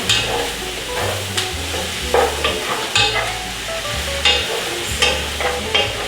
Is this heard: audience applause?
no